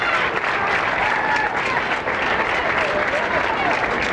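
Crowd at a 1999 PBA bowling championship telecast in Albuquerque cheers and applauds steadily for a bowler, a dense continuous roar of clapping and voices at fairly close range throughout.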